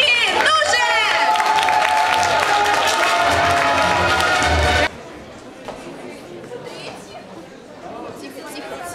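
School audience clapping and cheering for a class about to perform at a holiday show, loud dense applause mixed with whoops and voices for about five seconds before dropping to quieter chatter.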